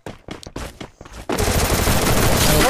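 Thompson submachine gun firing in a mobile battle-royale shooter game, several separate bursts of loud close shots followed by a dense sustained burst of automatic fire.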